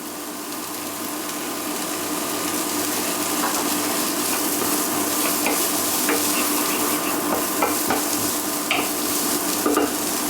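Diced carrots, onions and flat parsley are stirred in a hot pan, a steady close sizzle with occasional scraping clicks of the utensil throughout, no voices.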